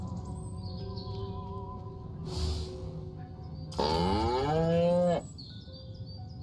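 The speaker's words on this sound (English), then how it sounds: "Again with the moo?" A cow lows in the video game Destroy All Humans!, a long, loud, rising moo near the end after a shorter grunt-like sound, over a steady game ambience with faint tonal background music.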